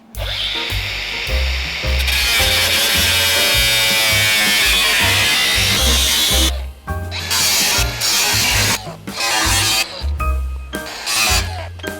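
A power tool cuts a rusted body panel at an angle on a 3rd-gen Dodge Ram 5.9 Cummins diesel truck. It whines loudly and steadily for about six seconds, then returns in shorter bursts with brief pauses between them.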